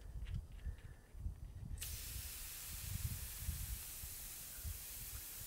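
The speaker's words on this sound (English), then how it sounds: "I'm going to go ahead and let the rest of the air out of the tire first." Air hisses out of a bicycle tire whose sealant failed to hold, starting with a quiet handling sound and then a loud, continuous broadband hiss that runs steadily to the end.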